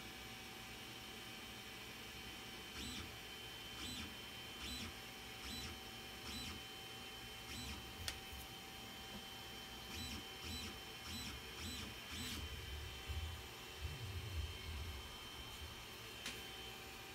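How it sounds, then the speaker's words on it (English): A Creality Ender 3 Pro 3D printer moves its x-axis back and forth with its fans running: a constant airy fan hiss under repeated short, whining motor runs in a regular rhythm, heard close and without speech. "Make sure this x-axis goes back and forth. Make sure it doesn't grind or stop anywhere."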